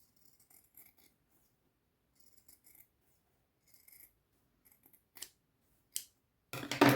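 Scissors snip fabric close along a sewn seam on a multipurpose pouch, in sparse soft crisp cuts separated by quiet gaps, getting louder with a final rustle of cloth.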